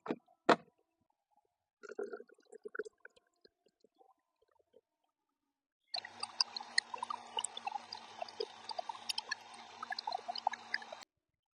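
Boiled cow's milk poured into pomegranate juice and blended, with soft pouring and handling noises first, then a steady mixer-grinder whir running for about five seconds.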